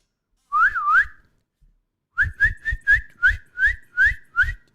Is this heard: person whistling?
yes